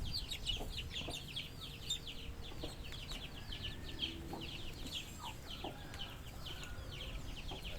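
Chickens, including a rooster, cluck and chatter steadily in a farmyard flock, the repeated calls overlapping at a moderate distance over a low background hum.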